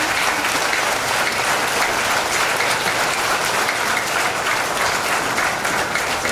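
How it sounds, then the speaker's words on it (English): Dense, sustained applause from a large school science expo audience, steady and loud throughout with no voices standing out. "So this round of applause was for you, sir."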